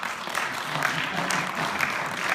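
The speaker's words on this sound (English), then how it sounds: "But those of you who applaud" Applause from an audience at a synagogue talk in Natick, a steady broadband patter of many hands filling the short stretch without a break.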